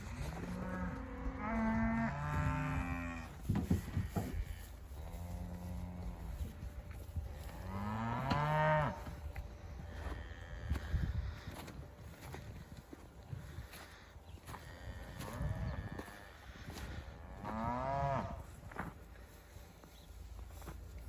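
Cattle bellow repeatedly during weaning, calves and cull cows calling in long, loud moos one after another, some close and some farther off, with footsteps and shuffling between calls.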